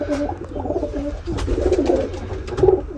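Several pigeons cooing inside a pigeon cage, with soft, repeated throaty coos overlapping steadily throughout at close range and no speech.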